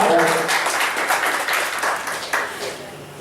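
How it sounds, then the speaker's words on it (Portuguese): A live audience breaks into applause, dense clapping that starts loud and gradually thins out over a few seconds, with voices mixed in. "Uma salva de palmas para a gente"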